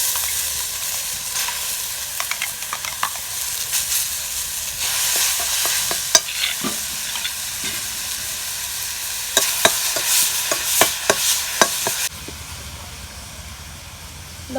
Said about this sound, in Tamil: கொஞ்சமாக எண்ணெய் ஊற்றிக்கலாம், ரொம்ப எண்ணெய் தேவையில்லை. ஊற்றிட்டு இதை போட்டு ஒரு வணக்கிக்கலாம்.